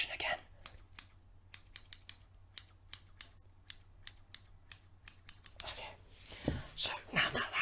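Close, crisp snips of scissors trimming hair in an ASMR hairstylist roleplay, a quick irregular run of about twenty cuts before shuffling and soft handling noises take over.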